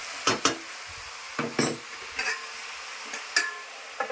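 Jackfruit and prawn curry being stirred in a pan: several sharp scraping strokes of a spatula against metal, spaced out over a faint background sizzle, with no voices.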